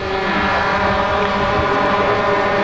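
Four-engine Allison turboprop transport plane at a 1981 air show in Yverdon, a loud steady drone with layered engine tones holding throughout, no voices.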